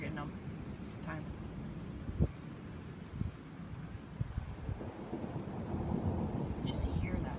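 A springtime thunderstorm rumbles close overhead, with low thunder and steady rain and wind hiss in the background and a couple of sharper cracks.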